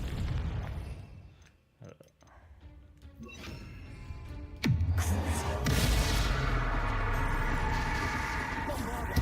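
Confringo fire spell in the video game Hogwarts Legacy: quieter game ambience, then a sudden sharp blast midway that rolls into a sustained loud rumbling roar.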